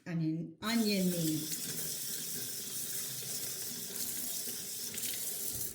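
Tap water runs into a sink to wash an onion: a brief gush, a short gap, then a steady close splashing stream that continues alone to the end.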